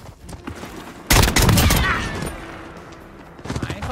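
An SKS rifle fired from the hip in Call of Duty Modern Warfare: one loud, close, sharp report at about one second, followed by a ringing decay and quieter game noise. Faint speech is heard before and after.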